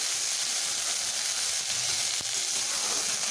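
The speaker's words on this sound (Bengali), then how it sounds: "2 মিনিট পরে আমি ঢাকা খুলে এগুলোকে বেশ ভালোভাবে ভেজে নেব।" Potatoes and bitter gourd frying in a pan, a dense, even sizzle and hiss filling the clip, with one brief clink partway through.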